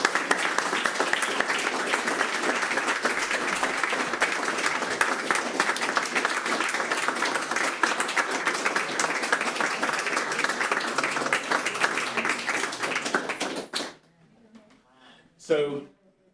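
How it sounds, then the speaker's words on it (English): Audience applause at a memorial concert honouring a portrait artist, a dense sustained round of clapping from a crowd for about fourteen seconds before it cuts off, followed by brief quiet talk. "Can we have a round of applause?"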